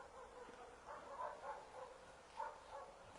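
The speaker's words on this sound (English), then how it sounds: "you hear those other dogs going off?" Several dogs bark in the distance, faint and intermittent, a few scattered yelps and woofs in an outdoor garden setting.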